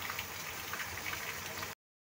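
Heavy rain pouring in Caruaru, falling as a steady, dense hiss that stays close and even throughout with no pauses.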